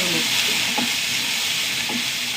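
Shallots frying in ghee give off a steady, dense sizzle that runs without a break, along with a few faint scrapes of stirring and no voices.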